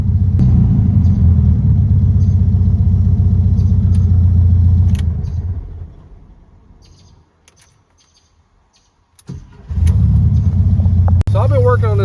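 Air-cooled VW Beetle engine idling with a generator that charges poorly at idle, a steady low rumble that fades out midway, returns briefly and then picks up again, with birds chirping faintly.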